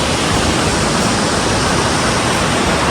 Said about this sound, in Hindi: ये देखो सारा पानी इकट्ठा होके ये बहता हुआ नीचे की तरफ जा रहा है।